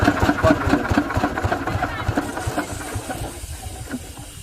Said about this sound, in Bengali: এখন আমাদের মেশিনটা বন্ধ করতে হবে, টেনে ধরলে পরেই